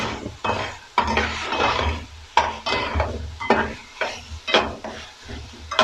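Sliced cabbage, carrot and cauliflower florets for chowmein are tossed in a pan with two spoons, loud rhythmic scraping strokes over a bright sizzle, close and without talk.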